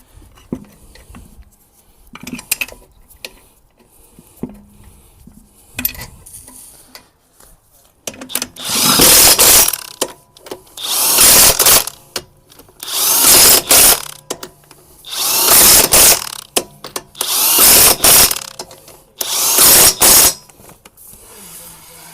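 Impact wrench tightening the wheel nuts on a VW Crafter or Mercedes Sprinter camper van, five loud bursts of buzzing hammering in a steady rhythm with short pauses between them, close by.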